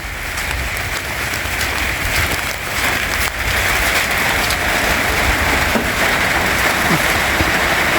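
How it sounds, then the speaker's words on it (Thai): Heavy rain falls steadily on a rice field in a farming area, making a dense, loud, unbroken hiss that runs throughout with no voices. "น้ำฝนไหลลงค่ะฝนตกแล้วก็ไหลลงสางเต็มพอดี"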